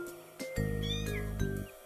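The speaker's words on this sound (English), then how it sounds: "It's a kitten" A loud, drawn-out meow sounds close by, with light tinkling chimes in the background.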